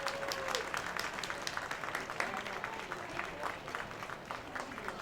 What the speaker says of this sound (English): Quackerjack starts that rhythmic clapping behind home plate, trying to get everybody with him